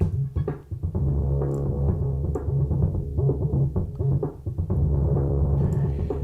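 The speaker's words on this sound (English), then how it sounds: "So the distorty sound you're hearing is the part of it that is the biquad distortion factor" Soft-clipping biquad distortion from a Z-plane-style filter plugin gives thick, buzzy low tones a gritty edge, sustained and pulsing steadily throughout with no voices.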